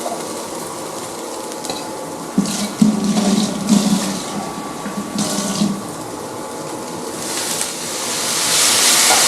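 Water pours from a tap into a vessel while a mushroom curry is being cooked, a steady splashing stream with some stirring clatter and no voices.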